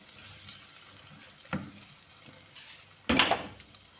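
Chickpeas drop into a hot pan for chana pulao, setting off two sharp sizzling bursts, the second louder, over a low, steady frying hiss with no talk.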